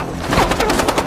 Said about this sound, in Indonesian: Namun lutut Tony terkena tembakan